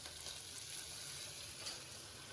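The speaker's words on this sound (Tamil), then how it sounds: "இப்ப வெங்காயம் போட்டுக்கோம். தெரிச்சுது" Onions and green chillies frying in a pan give off a faint, steady crackling sizzle, heard alone throughout.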